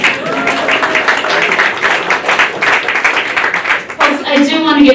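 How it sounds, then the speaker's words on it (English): An audience at a port terminal modernization celebration claps in a brief, moderately loud burst of dense applause, fading around four seconds as a voice begins speaking over the room. "You can clap for that."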